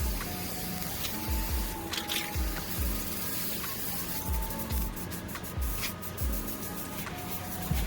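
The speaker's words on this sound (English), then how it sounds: "use spray adhesive to hold it down" Short bursts of hissing spray adhesive come and go over a steady background hum, with a faint rhythmic thumping throughout.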